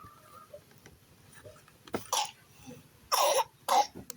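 A few harsh coughs close by, one short one followed by two louder bursts, over faint background murmur.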